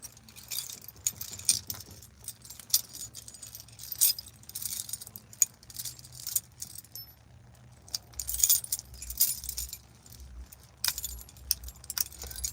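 A bunch of keys jangles and clinks in repeated bursts, near and fairly loud, with quieter gaps in between and a faint low hum underneath.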